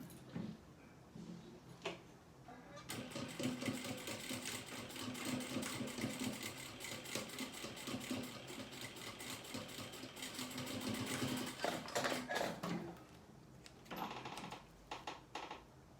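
A sewing machine stitches a small fabric pencil case in quick bursts of rapid mechanical clatter, with short pauses between runs, close and fairly quiet with no talk.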